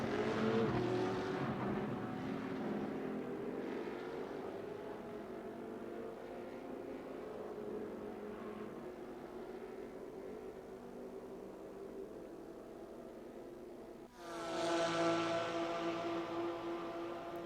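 Race car engines in a VR sim racing game with a Corvette among the field, a sustained loud high engine drone that holds steady, then jumps sharply to a higher-pitched rev near the end, with no talking.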